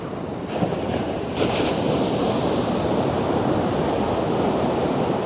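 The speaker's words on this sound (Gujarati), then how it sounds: "સમુદ્ર બહુ તોફાની લાગે છે અને લહેર બહુ ઊંચી ઊંચી ઉડી રહી છે" Rough sea waves crash on the beach at Aazhimala in Kerala, making a steady, loud roar of surf, with strong wind rumble on the microphone and no speech.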